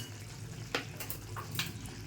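Hot water is poured into a simmering black squid masala curry, giving two quick sizzling bursts over a low, steady bubbling in the pan.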